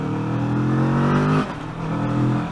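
A Kawasaki Vulcan S cruiser motorcycle engine revs up hard under an opened throttle, its pitch climbing steadily before a brief dip at a gear change and another climb, loud and close.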